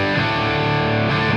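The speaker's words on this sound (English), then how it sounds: "There's a little bit of reverb." An electric guitar played through a ToneX Mesa Boogie amp model with slight reverb rings out in a sustained distorted chord, loud and close, with a brief re-strike near the end.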